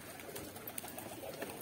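Pigeons coo in a busy outdoor setting during rooftop pigeon flying, the soft calls repeating faintly through steady background noise.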